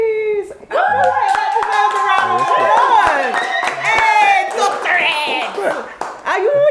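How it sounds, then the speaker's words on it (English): An audience clapping and cheering in short bursts, near and lively, mixed with excited voices and some laughter. "deserves a round of applause!"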